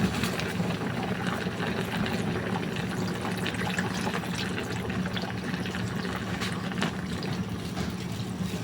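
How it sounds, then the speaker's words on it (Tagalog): Coconut milk, the second pressing, being poured into a carp stew cooking with taro shoots, a steady liquid pour and bubbling simmer held at an even level throughout with no talking. "ilagay na natin yung pangalawang gata."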